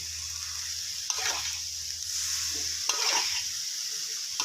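Pork with red curry paste, red chilies and kaffir lime leaves being stir-fried, a constant hissing sizzle with two bursts of spatula scraping and tossing, close by.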